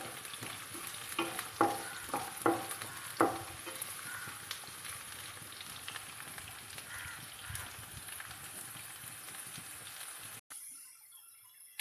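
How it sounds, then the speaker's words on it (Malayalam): Ginger, green chillies and curry leaves fry in oil for a sardine pickle, sending up a steady close sizzle with several sharp stirring clinks early on before the sound cuts off abruptly near the end. "നന്നായിട്ടിപ്പോൾ ഫ്രൈ ആയിട്ട് വരുന്നുണ്ട്."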